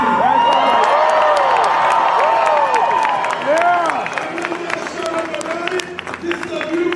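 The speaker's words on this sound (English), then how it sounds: "This is a beautiful crowd." A large crowd at the No Kings Day march in downtown Chicago cheers and applauds loudly, with whoops, shouts and sustained clapping that swell, then settle into ongoing claps and voices.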